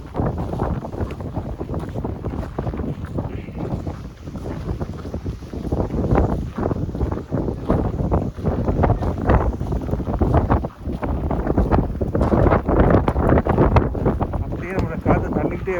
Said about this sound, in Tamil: காற்றுல தான் நாங்கள் தள்ளிட்டு வரப்படுறோம்.